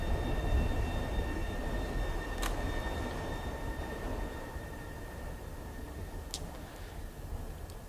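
A subway train riding in Vampire: The Masquerade, a continuous low rumble with a faint steady hum and two sharp brief clicks.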